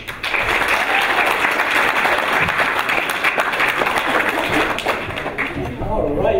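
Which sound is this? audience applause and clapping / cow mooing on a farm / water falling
audience applause and clapping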